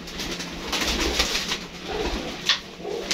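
Pigeons coo softly in low, rolling murmurs amid a busy flock, with flutters and scattered brighter calls over steady background noise.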